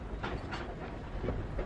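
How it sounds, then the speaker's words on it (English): Train rolling on rails from London to Liverpool in the video game Titanic: Honor and Glory, a steady rumbling clickety-clack with rhythmic wheel thumps at moderate volume, no talk. "First the train from London to Liverpool."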